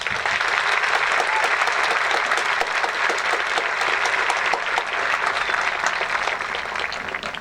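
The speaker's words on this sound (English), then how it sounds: "Round of applause." A large crowd at a technical school graduation ceremony applauds loudly and steadily for several seconds, dense clapping that barely varies in intensity and carries no speech over it.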